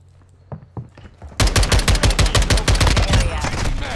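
Video game gunfire: a couple of isolated shots, then a loud, rapid automatic burst of evenly spaced rounds that fires continuously, close and dominant.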